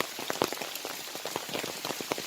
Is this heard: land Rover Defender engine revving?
no